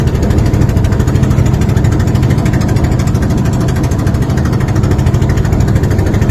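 A steady trawler boat engine drones continuously at close range on a canal, a deep throbbing rumble with no pauses or voices.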